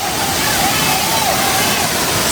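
The Periperi waterfall in Pernambuco roars as a loud, steady, broadband rush of falling water, close by and unbroken throughout.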